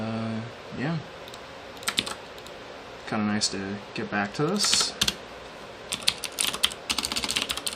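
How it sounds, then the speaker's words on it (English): Clicky mechanical computer keyboard typed on during a Rust coding livestream, bursts of fast, crisp key clacks near the mic between stretches of someone talking. "I'm also using my clicky keyboard"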